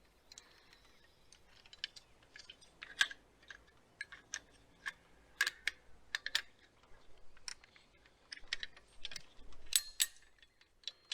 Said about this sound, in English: And it just ratchets